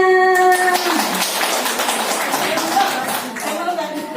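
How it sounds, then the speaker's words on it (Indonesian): Audience clapping in a classroom or training session on positive discipline, a brief scattered patter of hands following a tonal sound at the start, with a voice speaking near the end. "Tepuk tangannya."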